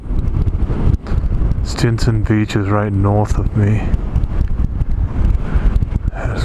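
Strong wind gusting across the microphone at Muir Beach Overlook above the Pacific, a loud continuous buffeting rumble throughout, while someone speaks briefly in the middle.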